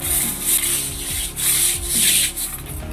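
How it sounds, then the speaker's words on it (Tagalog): A brush is scrubbed back and forth over a mossy surface after spraying with moss-removal solution, giving repeated rhythmic rasping strokes about every half second, close and fairly loud, with no talking. "brush mo dito"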